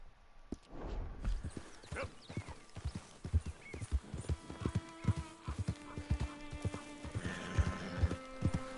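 Horse hooves clip-clop in Red Dead Redemption 2 on PS4, a steady series of close, crisp hoof strikes at a walking pace with a faint whinny early on.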